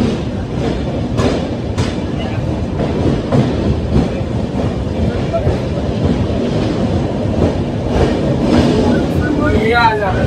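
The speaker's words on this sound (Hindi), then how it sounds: "अभी हमारी train exact on time departure कर चुकी है बांद्रा टर्मिनल रेलवे स्टेशन से" The 19019 Bandra–Haridwar Express pulls out of Bandra Terminus, heard from inside an AC coach. Steady wheel rumble and rhythmic clickety-clack run throughout, with a brief wheel squeal near the end and some talk over it.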